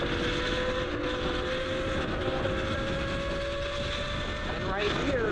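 A Tuttio Soleil 01 electric dirt bike runs at full throttle, its motor whine held steady and continuous under heavy wind buffeting across the whole stretch, with a rising tone sweep near the end.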